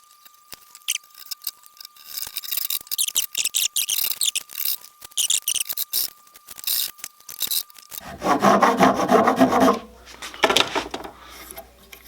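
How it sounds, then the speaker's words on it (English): Hand saw cutting wood for a cigar box guitar scarf joint, a run of rapid rasping back-and-forth strokes, nearby and fairly loud, ending in a denser burst of cutting. "I'm just going to try to just eye it and cut straight down."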